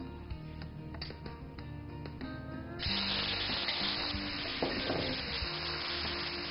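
Garlic paste hits a little hot oil in a pan and sizzles steadily up close, a bright hiss that jumps louder midway and then holds, with faint clinks nearby.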